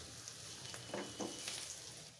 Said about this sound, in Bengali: দিয়ে দিচ্ছি 1 চা চামচ মরিচ গুঁড়ো, 1 চা চামচ মাছের মশলা, আধা চা চামচ হলুদ গুঁড়ো, স্বাদ মতো লবণ দিয়ে মশলাটাকে কষিয়ে নেব।